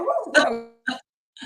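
A dog barks indoors in a room: one loud, full bark, then two shorter barks after brief pauses. A single spoken word is also heard.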